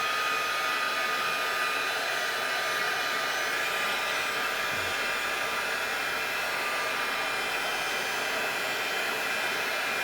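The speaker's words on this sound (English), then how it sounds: "And we're going to heat set." Heat tool blowing steadily to heat-set glitter embossing powder on a heart wall hanging craft, a loud constant airy whoosh held close without a break.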